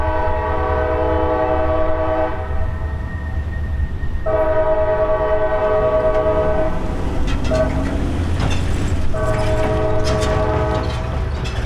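A CSX freight train rumbles past steadily on the M&M Subdivision with a loud, sustained horn blaring in long blasts, broken by short pauses, over a continuous low roar.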